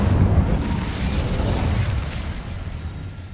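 Incendio fire spell cast in the video game Hogwarts Legacy, a dense, steady whooshing roar of flame with a low rumbling burst that holds throughout, no speech.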